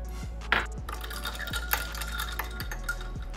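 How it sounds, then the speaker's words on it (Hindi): Ice cubes dropped into a glass of room-temperature tea, a few scattered clinks and knocks with a sharp tap near the start, faint liquid movement between them, no talking. "अब इसके अंदर हम डालेंगे आइस"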